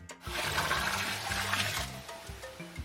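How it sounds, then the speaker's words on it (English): Water from a bucket splashes and gushes briefly onto a campfire at a campsite, a loud continuous pour lasting a couple of seconds before trailing off. "He poured his bucket of water on the next campfire."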